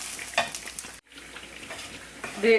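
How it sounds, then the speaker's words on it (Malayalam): Whole spices, including black peppercorns, dry-roast in a pan and are stirred close by, giving a crackling sizzle with scraping strokes and a brief pause midway. "എല്ലാം കൂടെ നന്നായിട്ടൊന്ന് വറുത്തെടുക്കാം കേട്ടോ."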